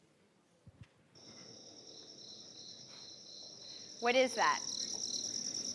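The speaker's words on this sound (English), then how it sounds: "Crickets" Crickets chirp in a steady, high, ringing drone that sets in and holds, with a voice briefly asking a question over it midway.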